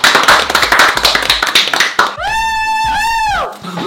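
A family claps for the winning pair at home, a quick run of close, separate hand claps for two seconds, then a long sustained voiced whoop or cheer rising and falling twice.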